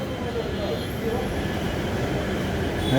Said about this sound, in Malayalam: അവിടുന്ന് വീണ്ടും ഒരു എഞ്ചിൻ ഇങ്ങോട്ട് വരുന്നുണ്ട്